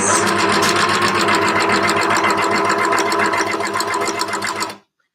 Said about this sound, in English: So you'll see as I'm overlocking